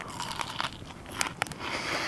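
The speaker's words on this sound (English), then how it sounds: "the crispy crunch. Bacon's good when it does this." Crispy bacon being bitten and chewed close up, several sharp crunches in quick irregular succession over a quiet outdoor background, with no talking.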